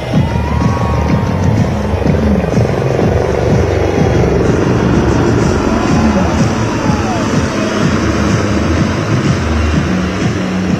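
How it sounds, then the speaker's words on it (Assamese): Helicopter flying overhead, its rotor producing a loud, continuous throbbing drone over the whole stretch, with a voice faintly underneath. "এয়া দেখিব পোৱা গৈছে আন এখন হেলিকপ্টাৰ ইয়াৰ ওপৰলৈকে গৈছে"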